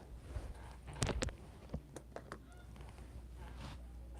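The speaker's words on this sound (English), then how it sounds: "Sound like a bird or something" A few short goose-like honking bird calls sound from outside a window, brief and fairly loud against a quiet room, separated by pauses with small knocks and rustles.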